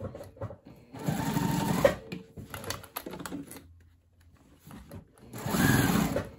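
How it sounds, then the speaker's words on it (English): A home sewing machine stitches a crossbody bag interior in quick bursts of rapid mechanical whirring, stopping and restarting, with quiet handling noises between runs. "I'm gonna go to the machine, I'm gonna stitch all the way around this side"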